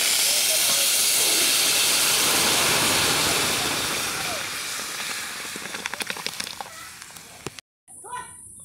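Dal poured into hot oil tempered with dried red chillies and mustard seeds hisses loudly in a sustained burst, then the sizzle settles into quieter crackling and popping, and a voice speaks at the close.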